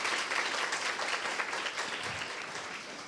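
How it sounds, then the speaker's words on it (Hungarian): An audience applauds to greet guests on stage at a live talk event, a dense, even wash of clapping hands sustained for several seconds at moderate loudness. "Köszöntjük egy tapssal, ahogy Pétert is."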